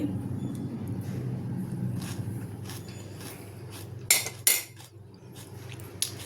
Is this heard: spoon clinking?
yes